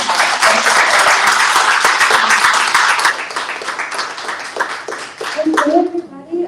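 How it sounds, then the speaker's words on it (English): Audience applause at a book event, dense clapping filling the room for about three seconds, then thinning into scattered claps and chatter before a brief swell near the end. "Let's give her another round of applause."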